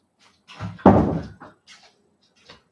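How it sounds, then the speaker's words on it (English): A dining room door swinging shut indoors, giving one solid, fairly loud thump with a brief rattle, followed by a few faint small knocks and no talking. "I'm going to close the dining room door."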